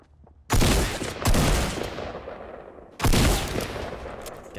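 Three loud, close shotgun blasts in Fortnite, each a sharp booming crack with a short decaying tail, the first two in quick succession and the third after a pause of about two seconds.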